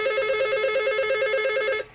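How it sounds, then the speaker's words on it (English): An office desk phone rings with a steady electronic trill, its warbling tone pulsing rapidly and evenly for almost two seconds at close range before cutting off abruptly. "the phone is ringing"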